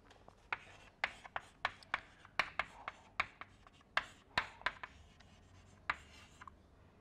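A pen or marker writing by hand while an engineering problem about Mach number and a drag coefficient is worked out, producing a rhythmic series of sharp scratchy strokes with brief pauses, close up, with no talking.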